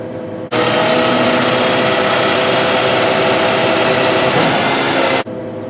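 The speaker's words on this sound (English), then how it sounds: "To raise the suspension, we will select the up button, and now the suspension is raising." Hydraulics raising the suspension on a GMK4100L-1 mobile crane: a loud, steady whirring drone that starts abruptly, holds for about five seconds and cuts off sharply.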